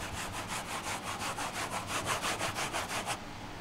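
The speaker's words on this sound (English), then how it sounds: "Here, I'll try to brush it real quick so you can see how caked on there it is." A brush scrubs caked road salt off the body of a BMW i4 M50, making a rapid series of rasping strokes in a steady rhythm, close up and fairly quiet, with no talking.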